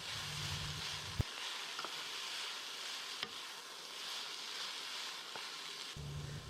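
Cabbage and green onions stir-frying in a wok with beef, a steady close sizzle with occasional clinks of a utensil against the pan as the vegetables are stirred.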